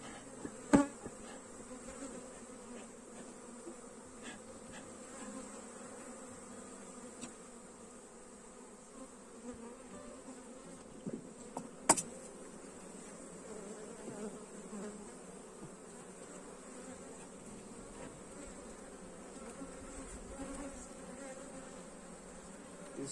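Apis honey bees buzz steadily during a hive split, a continuous drone that fills the space, with a few brief knocks and clatters from the hive boxes and no voices.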